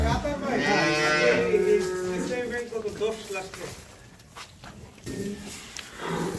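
A dairy cow with her heifer calf on a farm gives a loud, drawn-out moo up close in the first few seconds, followed by quieter shuffling and farmyard background noise.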